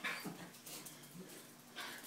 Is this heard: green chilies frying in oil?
no